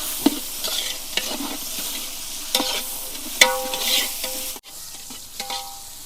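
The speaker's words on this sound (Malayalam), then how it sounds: "അപ്പോൾ നമ്മൾ ചെറിയ ചെറിയ ഉള്ളി ഇടുകയാണ് കേട്ടോ ഒന്ന് കട്ട് ചെറുതായിട്ട് കട്ട് ചെയ്താൽ മതി ഇളക്കി കൊടുത്തു അത്" Small chopped onions are stirred as they fry in a pan for chicken biryani. A spoon scrapes and clinks intermittently over a soft sizzle, with a brief quiet gap near the end and no speech.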